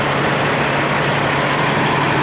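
A Peterbilt 389 glider semi truck idling nearby, a loud, steady low diesel drone with a constant hum and no variation across the short stretch.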